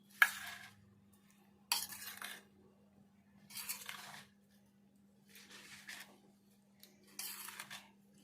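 A spoon working through a tomato chutney mixture with mustard powder and salt in a bowl, five separate bursts of wet scraping and mixing, close and moderately loud, with quiet gaps between them over a low steady hum.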